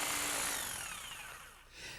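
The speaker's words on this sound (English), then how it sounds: "Now we'll take the jigsaw and cut right down the line to that mark." Short, fairly quiet rasp of a jigsaw cutting along a marked line in tempered hardboard, a continuous buzzing cut that fades slightly before picking up again.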